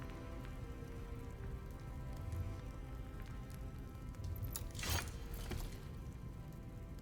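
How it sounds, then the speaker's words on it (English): Steady rain falls outside, a soft continuous hiss of drops on a surface, with a brief louder rustle partway through. "storming here and it's raining outside."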